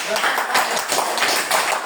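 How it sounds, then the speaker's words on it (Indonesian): Classroom applause for a group of students at an elementary school, steady brisk clapping from many hands running through the whole stretch, fairly close and busy. "beri tepuk tangan untuk kelompok"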